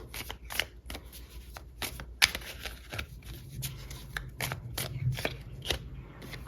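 Tarot deck being shuffled and a card pulled, rapid riffling card flicks in close irregular bursts with a sharper snap partway through, quiet and intimate with no voice.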